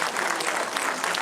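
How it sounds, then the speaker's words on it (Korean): A studio or hall audience applauds a 100-year-old independence patriot with a brief, steady burst of clapping at moderate loudness. "다시 한번 큰 박수 부탁드립니다"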